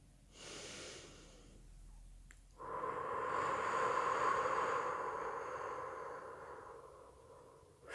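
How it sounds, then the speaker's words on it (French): One slow, deep inhalation of breath, heard close and soft as a long airy rush that swells and then fades, following a brief earlier breath. "Alors inspirez bien encore une fois."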